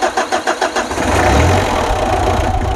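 A 4D56 diesel engine that misfires and smokes cranks hard, with about six quick, loud starter pulses, then catches and settles into a steady, rough idle close by.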